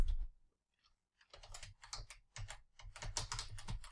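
Quick bursts of typing on a computer keyboard while entering text in Google Docs, crisp close clicks in short runs separated by a brief pause, with no talk.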